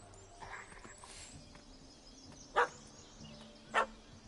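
A dog barks twice in The Witcher 3 video game, two short, sharp yips spaced about a second apart over quiet ambient background sound.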